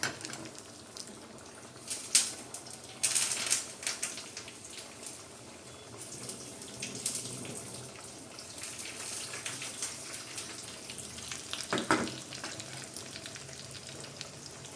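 Curry leaves and garlic tempering in hot oil for a spinach masala curry, giving a steady close crackling sizzle with a few sharper bursts of spitting, no talk.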